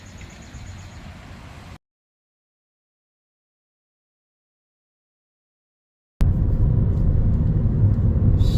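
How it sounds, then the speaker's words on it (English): Car on a road near Sidling Hill, Maryland, giving a steady low engine and tire rumble, close and continuous; it runs briefly, cuts to silence for several seconds, then returns louder and steady. "So I'm going to get back in my car and head on my way."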